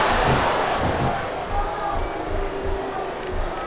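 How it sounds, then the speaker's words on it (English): Video game crowd in the wrestling game SVR 2007 cheers and roars steadily throughout, a dense, continuous arena wash with rising swells, with no clear words heard. "these superstars are getting some feedback from the crowd, JR."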